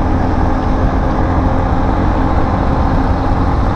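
An AKT TTR 200 motorcycle engine runs smoothly while riding, a loud, steady, even drone with rushing wind noise that holds constant throughout, and no talking.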